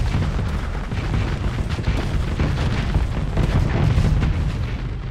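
Missile array firing and exploding in the space combat game Starsector, a dense, continuous rumble of booms and blasts that stays loud and steady throughout.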